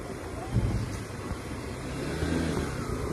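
A car being driven in third gear while the driver practices shifting; a steady low engine hum with slight revving and small surges inside the cabin, and no talk.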